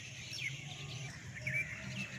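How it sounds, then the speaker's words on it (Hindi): Birds chirp in a morning garden inside Masaman Burj, a historical building in Wazirabad, Pakistan: scattered, bright, high tweets over soft outdoor ambience. "परिंदे चहचहा रहे हैं।"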